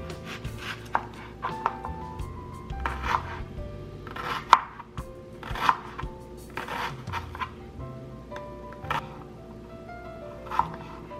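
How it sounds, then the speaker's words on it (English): A knife chops an onion on a cutting board in a home kitchen, giving a run of irregular, sharp taps over about eleven seconds, some strokes louder than others, with no talking. "First, we're going to start by chopping our onion."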